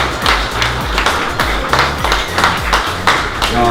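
Applause from a crowd at the Pandivere Talv 2017 winter motorsport prize-giving for award winners, steady clapping with rhythmic thumps and taps close by, alone without talk.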